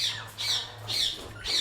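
A parrot in a bird shop lets out about four loud, harsh squawks in steady succession, each a shrill burst separated by short gaps, with no talking.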